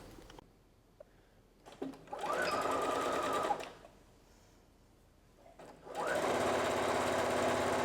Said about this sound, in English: So I'm gonna sew with a 1 centimeter seam allowance away from the folded edge here.